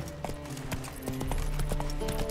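The horse Roach galloping in The Witcher 3, a quick, close run of rhythmic hoof clip-clops over about two seconds.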